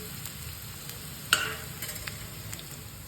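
Onions sautéing in a pan on medium heat until reddish, a low hissing sizzle with one sharp clink of a utensil and a few soft stirring scrapes, close and quiet.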